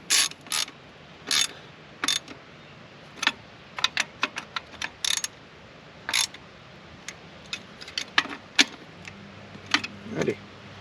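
Fuel rail bolts are tightened into the intake manifold of a Jeep with a ratchet, producing short, crisp clicking bursts separated by pauses, some single clicks and some quick clusters, close and fairly loud.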